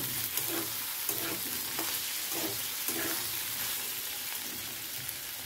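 Potato bhaji made with new potatoes frying in a pan, a dense, steady sizzle and crackle with faint stirring scrapes, close and continuous with no voices.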